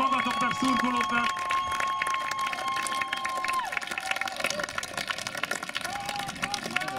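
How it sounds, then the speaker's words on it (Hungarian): A crowd applauds and cheers after an American football game between two Budapest teams, the Wolves and the Cowbells, a steady rumble of clapping and shouting with whistles and voices mixed in throughout. "Én nagyon nagy tapsot szeretnék kérni mind a két csapatnak"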